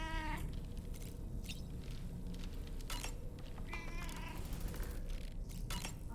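A Tar Kitty cat creature in the video game Death Stranding 2 meowing repeatedly, several drawn-out wavering meows and cries over a constant ambient game background, clear and close, with no speech.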